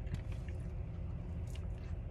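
A person bites into a Dunkin' donut and chews it up close. A few soft, crunchy bites are followed by steady, moist chewing.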